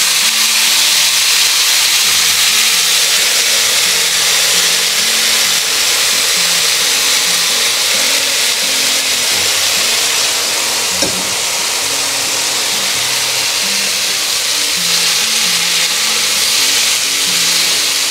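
Long beans tumble into onions frying in a pan for a Kerala payar mezhukkupuratti stir-fry, giving a loud, steady close sizzle with one brief clatter partway through.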